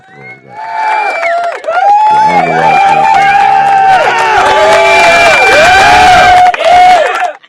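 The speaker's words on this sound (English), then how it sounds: "Hit the applause." A studio applause sound effect played during a podcast intro bursts in loud and distorted, a crowd-like roar of cheering and whooping that runs almost the whole stretch, with a voice talking over it.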